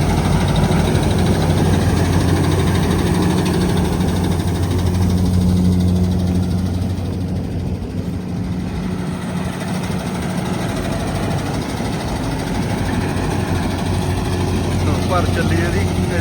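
A tractor engine runs steadily throughout, a loud, continuous low rumble with a droning idle quality that holds constant for the whole stretch.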